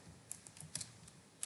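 Light, irregular typing on a computer keyboard, a scatter of quick, crisp keystrokes close by with soft pauses between them and a faint background hum.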